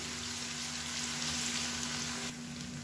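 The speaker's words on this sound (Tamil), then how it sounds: "பூண்டு சேர்த்துட்டு நல்லா வதக்கணும்." Garlic and curry leaves sautéing in oil in a pan for a chutney, a steady close sizzle and crackle with no talk over it, easing slightly near the end.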